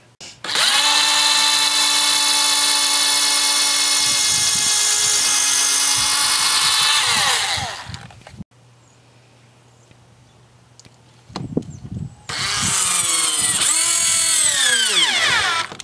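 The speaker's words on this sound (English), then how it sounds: "I think I'm going to start with a couple of small pilot holes." A power drill bores small 1/16 pilot holes into pallet wood in two loud, sustained bursts, with a quiet pause between them.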